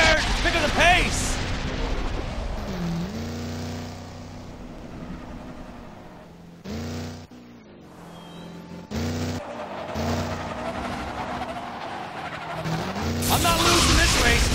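A race car engine roars and its tires skid through turns in the Cars 2 video game, with a droning motor pitch that rises and falls and a few brief gaps, under excited character voices.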